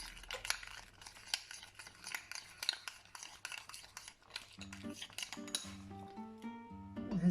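Metal utensils stir and scrape against a cooking pot, giving a quick run of clinks and scrapes. Toward the end, low tonal sounds rise underneath, and there is no clear talking.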